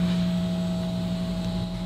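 An electric fuel pump on a turbo truck switched on, giving a steady, continuous whine and hum that holds evenly and fairly loud throughout, with no talking.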